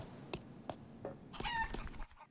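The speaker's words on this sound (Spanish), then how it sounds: "Gallina..." Chicken in the video game Eternal Return: Black Survival, several short separate clucks followed by a louder, longer burst of squawking cackles before it falls quiet.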